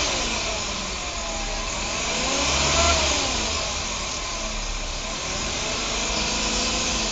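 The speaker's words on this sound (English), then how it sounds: "Increase your REV." A car engine revs up and back down during a battery health test with a Micro-568 tester, rising to a single broad peak partway through, then holding a steady mid-level hum close by.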